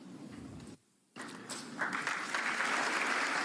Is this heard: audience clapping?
yes